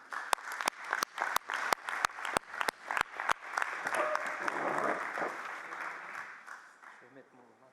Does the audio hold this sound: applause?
yes